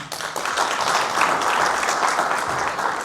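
Applause for the Menemen mayor at a university commemoration event in İzmir: a full room clapping in a steady, dense roar for about three seconds.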